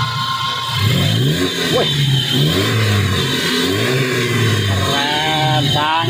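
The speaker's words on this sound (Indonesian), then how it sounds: "Dicoba digas-gas guys." A 2005 Opel Blazer Samba XR engine being revved repeatedly, rising and falling in several close, loud surges, with a brief shout from a man partway through.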